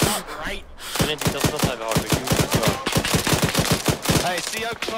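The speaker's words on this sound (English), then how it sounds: "Zephyr, I need you shooting down the road to the right, dude." Sustained automatic gunfire in ARMA 3 rattles in fast, loud, closely spaced bursts for several seconds, with a faint voice briefly underneath.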